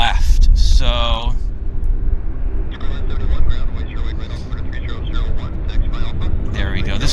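A Q400 airliner departing Vancouver airport gives a continuous engine roar and rumble throughout, fairly loud, while someone talks over it.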